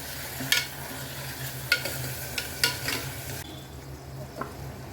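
Onions and tomato fry for a mutton gravy, a soft steady sizzle punctuated by several sharp stirring scrapes of a spoon against the pan, with the stirring stopping toward the end.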